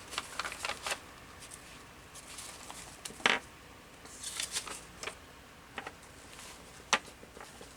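Paper being rummaged and shuffled while someone searches for a sheet, close and quiet, in short scattered rustles and flicks with a couple of sharper crinkles and no talking.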